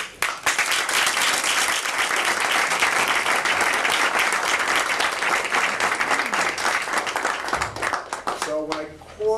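Applause at a board of education meeting, a room full of people clapping steadily and loudly before it tapers off, with a voice starting to speak at the end.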